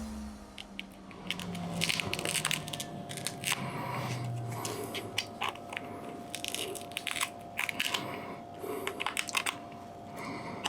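Rear camera glass on a Google Pixel 6 cracking and snapping off during a repair, heard as a run of close, sharp crunching and crackling clicks over a steady low hum, with no talking.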